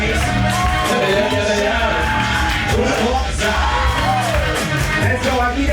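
A crowd at a live ballroom vogue event cheers, whoops and yells continuously, dense and loud with overlapping voices throughout.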